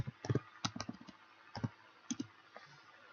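Computer keyboard keys clicked while entering a spreadsheet formula, in irregular clusters of close, fairly quiet taps separated by short pauses, with no talking.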